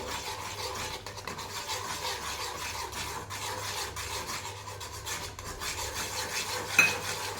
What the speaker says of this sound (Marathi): रवा अशा प्रकारे थोडं थोडं टाकायचं आहे आणि मिक्स करायचं आहे